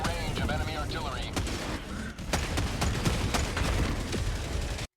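Enemy artillery and gunfire in Helldivers 2 sound as scattered booms and sharp cracking bursts at moderate distance, with a brief voice heard near the start.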